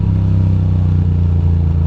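A motorcycle engine idles with a steady low rumble, then a short throttle blip on a downshift briefly lifts and dips the note, loud and close with no talk.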